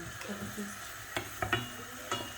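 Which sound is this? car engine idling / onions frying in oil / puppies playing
onions frying in oil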